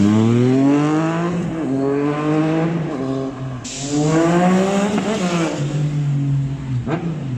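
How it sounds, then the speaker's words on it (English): A motorcycle fitted with an Akrapovic exhaust revs hard through the gears, its loud nearby engine note climbing repeatedly then dropping at each shift, with a sharp rasping exhaust tone throughout. "With the Akrapovic exhaust, there was unending smiles on revving,"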